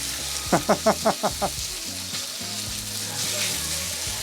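Beef sizzles in hot oil in a pan for homestyle fried rice, a steady close hiss of frying, with a quick run of six evenly spaced tonal taps early on.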